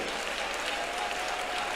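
A congregation claps together during worship at an IPC prayer centre, a dense, continuous burst of applause that stays level throughout, with faint voices mixed in.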